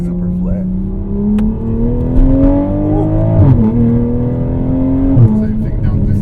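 A track-built Toyota Supra accelerates on public streets, its engine pitch climbing steadily through a gear in a loud, close cabin drone, with a person talking over it.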